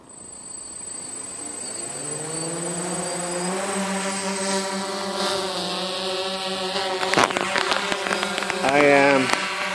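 A DJI F550 hexacopter drone with a Pixhawk flight controller spins up and lifts off over a sports field. Its motors rise into a buzzing, harmonic whine that climbs in pitch and grows louder, with rustling handling noises near the end.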